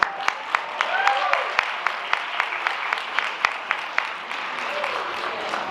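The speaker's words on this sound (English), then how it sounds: "give them another round of applause." A crowd at a Rotary singing night in Laurens, SC, gives sustained applause with sharp individual claps standing out close by, steady throughout with scattered cheers mixed in.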